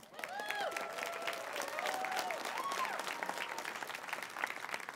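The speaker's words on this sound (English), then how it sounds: "So big round of applause for progress" A seated audience gives a steady round of applause, dense clapping sustained at an even level for several seconds, with a few faint whoops mixed into the crowd noise.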